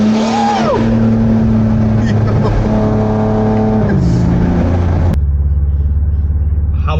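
Revving from a BMW G82 M4 with its S58 engine and catless downpipes, loud and close, with rising and falling engine tones that drop to a steady deep idle rumble near the end; speech is faintly present.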